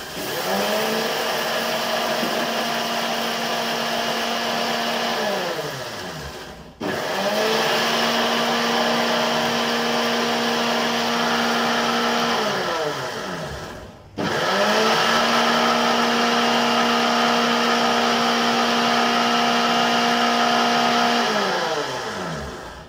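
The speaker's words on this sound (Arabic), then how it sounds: "هنطحن العدس الاصفر في الخلاط" An electric blender grinding dry yellow lentils in three long continuous runs, each starting and stopping abruptly, loud and close with a steady whining motor tone.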